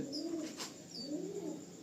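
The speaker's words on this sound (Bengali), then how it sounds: "এই একটা কালাঙ্কা পায়রা আলিম, খুব ভালো পায়রা, খুব ভালো" A pigeon gives two soft, rolling coos close by, with a faint higher chirp above each, in a quiet setting without talk.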